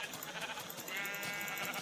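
Minecraft sheep bleating in a steady, somewhat thin loop, with a faint bright background hum and no talking.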